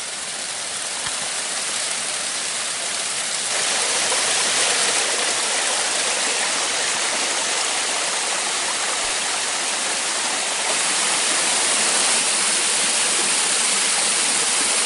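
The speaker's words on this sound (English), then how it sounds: "Can now hear the little creek over to the west." A small creek flows steadily off to one side of a valley scramble near waterfalls, a continuous broadband rush of water that swells slightly louder partway through and keeps going without pause.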